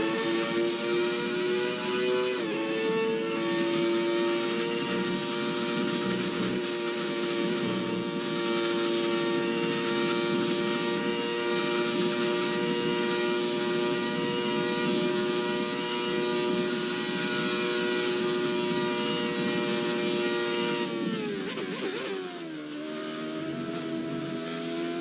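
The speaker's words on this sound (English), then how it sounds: "I'm gonna let you have a listen to the engine on the Camel Straight and up Eau Rouge and Radion." Jordan 191 Formula One car engine in the F1 2020 racing game, a loud sustained high-pitched wail held at steady revs down the Camel Straight and up Eau Rouge and Radion, with a brief drop and upshift near the end.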